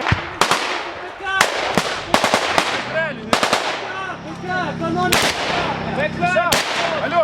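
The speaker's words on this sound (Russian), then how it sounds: "Ай, БК взорвался! Взорвался БК!" Ammunition cooking off in a combat zone near Debaltseve, Ukraine: a rapid, irregular series of loud sharp blasts and cracks close by, with shouting voices between and under the explosions.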